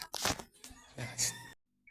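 Chicken sounds close by on a riverside, a few rough squawks and clucks mixed with rustling, ending in brief quiet.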